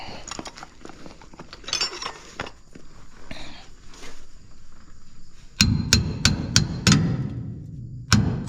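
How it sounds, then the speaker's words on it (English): Hammer tapping on the metal auger adjuster of an Oliver 7300 combine, several quick sharp strikes in a short burst after quieter scattered clinks and handling noises, close by. "Might need to tap on that with a hammer."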